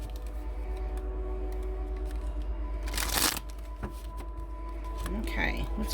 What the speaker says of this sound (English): It's easy to shuffle.